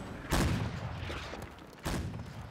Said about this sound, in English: Look at that fire coming in from the cannons on the top of the building.